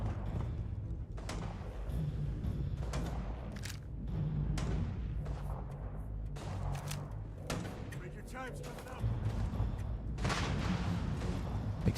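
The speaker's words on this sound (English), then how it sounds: "Explosions." Muffled booms and thuds of explosions in the video game Starfield go off one after another in a busy firefight, with a low rumbling bed beneath the scattered blasts.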